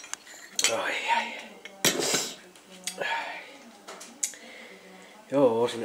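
Dishes and cutlery clatter as they are loaded into a dishwasher, with several sharp clinks and knocks spread unevenly over a few seconds, close by, while a person talks over them.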